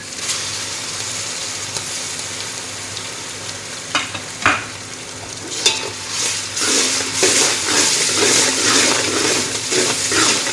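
Ginger garlic paste going into browned onions in hot oil, a few sharp knocks and scrapes of the spoon, then the sizzle swells into a louder, hissing spatter that continues close by.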